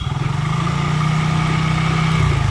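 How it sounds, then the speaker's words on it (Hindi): A Hero Super Splendor motorcycle engine idles loud and close with a steady, throbbing low rumble throughout; the brief run gives no clear shutdown. "ये देखो अभी बाइक स्टार्ट है।"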